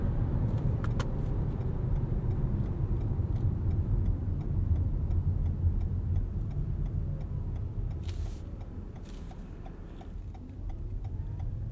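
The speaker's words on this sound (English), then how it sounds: "the straight line performance and acceleration out of this RAV4 really does present itself whenever you put your foot down." A Toyota RAV4 Prime plug-in hybrid crossover under acceleration, heard from inside as a steady low road and drivetrain rumble with faint ticking, easing slightly near the end.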